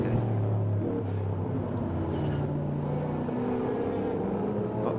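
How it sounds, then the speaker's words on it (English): Big V8 sports-racing cars at Winton circuit in a Group S race, including a 5.4-litre Corvette, roaring past with a dense, continuous engine drone and overlapping exhaust notes, loud and steady throughout. "The beautiful big V8 making all sorts of lovely noises from those exhaust pipes."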